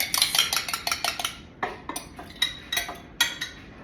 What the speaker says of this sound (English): just gonna give them a little mix